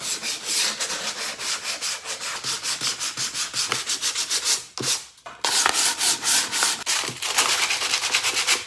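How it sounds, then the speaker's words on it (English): Hand sanding along the edges of a painted wood piece to give it a worn look, close and steady with rapid back-and-forth rubbing strokes, a brief pause midway, then more scraping passes. "give it a little sand around the edges just to give it a little bit of"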